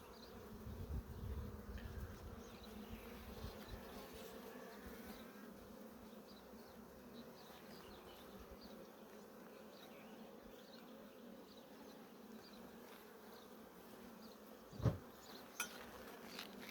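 A steady, low hum of many honeybees buzzing around a hive, continuous and fairly quiet, with a couple of brief knocks near the end.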